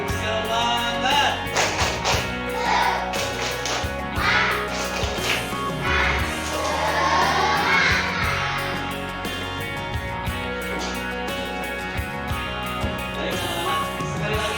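A class of schoolchildren performs the 'tepuk semangat' clapping chant, with bursts of sharp, rhythmic claps mixed with loud, shouted chanting voices that rise and fall over several seconds.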